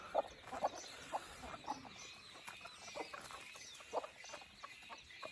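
Hens cluck softly in short, scattered bursts against a quiet outdoor background.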